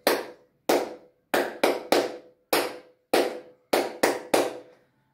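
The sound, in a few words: hand clapping a rhythm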